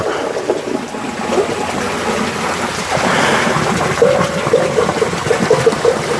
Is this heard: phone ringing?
no